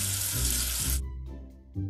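A game's sound effect of water running from a tap to rinse away soap gushes for about a second, then stops abruptly, followed by short low tonal blips.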